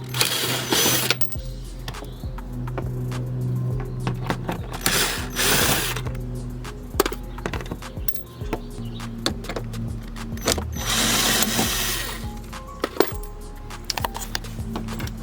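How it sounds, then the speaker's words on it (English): Screws come out of a BMW F30 bumper with quiet ratcheting clicks and mechanical whirring from a hand tool, broken by sharper knocks and rattles nearby. "So I'm gonna go ahead and remove these screws here."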